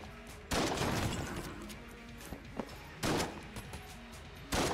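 A sawed-off shotgun fires in the video game Enter the Gungeon, three heavy blasts spaced about every two seconds, loud and close, with small game effects between them.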